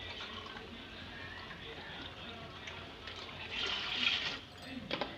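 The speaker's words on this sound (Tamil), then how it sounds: "தண்ணி ஊற்றிக்கலாம்." Water pours into a cooking pot while making restaurant-style biryani, a faint continuous splashing and gurgling fill that swells briefly near the end.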